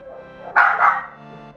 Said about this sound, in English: the dog is barking, she doesn't like the leaf blower